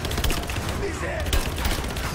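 Continuous gunfire from a firefight in the video game Rise of the Tomb Raider, a dense steady rattle of overlapping shots throughout at fairly even loudness with no clear gaps.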